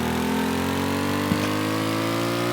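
A vehicle engine in the Stormworks video game runs steadily loud with a rising harmonic whine as it climbs toward a 6,000 rpm redline, buzzing like a chainsaw, with a brief knock midway.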